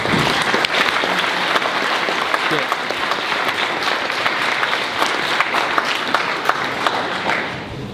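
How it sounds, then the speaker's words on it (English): Sustained applause from a large crowd at a school speech day awards ceremony, steady and dense clapping for the whole stretch with no pause. "Please give a round of applause to the Year 11 Special Award recipients"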